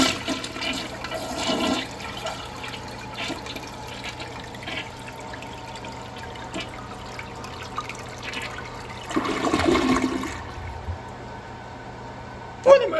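A Kohler Wellworth Waterguard fifth-generation toilet rinsing its bowl, a steady low rush of water running throughout with a louder swell near the ten-second mark, faint and even.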